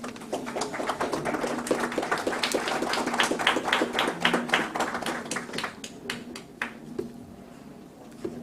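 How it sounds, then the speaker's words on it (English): A round of applause for a managing director being welcomed on stage at an investment summit in Nepal, with scattered, fairly sparse clapping that builds and then thins out, over a faint steady hum. "Please give him a round of applause."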